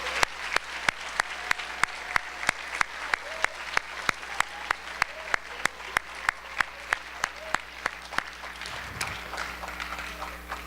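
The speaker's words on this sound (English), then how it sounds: "If we could have a round of applause for our veterans." High school audience at a Veterans' Day program applauding veterans, with loud evenly spaced claps close by over a softer crowd clapping that continues throughout.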